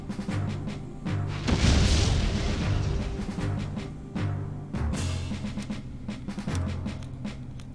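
Explosions from a thrown grenade in the Septerra Core video game boom out in several heavy blasts over a rumbling battle sound, one larger burst standing out among the repeated impacts.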